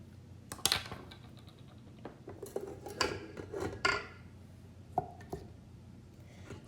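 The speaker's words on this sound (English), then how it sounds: "I'm going to just give it a nice stir, get everything blended together" A whisk stirs a lemon creamsicle pie filling in a bowl, giving scattered clinks and scrapes against the bowl with short, uneven bursts of activity, fairly close and quiet, with no talking.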